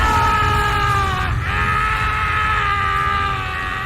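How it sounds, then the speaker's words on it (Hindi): A blood-curdling scream in an animated horror story, a loud sustained shriek that wavers and breaks off briefly before carrying on, fading slightly at the end. "तभी चट्टान के उस पार से हमें एक खून जमा देने वाली चीख सुनाई दी।"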